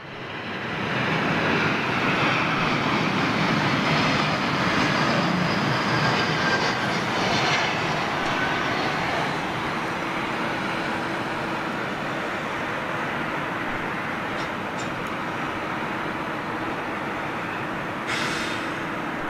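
Jet airliner taking off on a wet runway at London Heathrow, a loud sustained roar of engines with spray hiss that holds steady and slowly eases.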